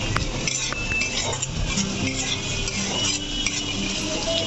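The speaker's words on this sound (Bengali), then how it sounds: "এখন পেঁয়াজগুলো আমি ভেজে নিব আস্তে আস্তে করে।" Onions frying slowly in oil with bay leaves in a pan for Bengali-style masoor dal with eggs, a steady broadband sizzle with occasional soft clinks of a stirring spoon against the pan, continuous and close, no talking.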